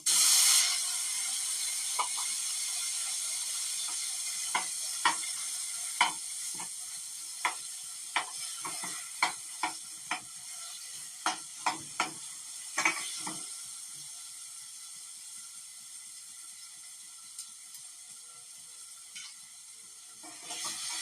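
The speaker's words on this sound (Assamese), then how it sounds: "ঘিখিনিত এতিয়া যিহেতু মিঠা আলুখিনি ধুনীয়াকৈ মই বইল কৰি থোৱাই আছিলে আগৰ পৰা" Boiled sweet potatoes frying in hot ghee give a steady, close sizzle, with sharp utensil clacks and scrapes from stirring scattered through the first half.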